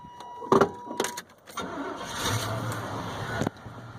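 A 1992 Chevy Silverado Z71 pickup with 216,000 miles cranks with a few sharp clicks and catches. The engine then settles into a steady, moderately loud running idle nearby.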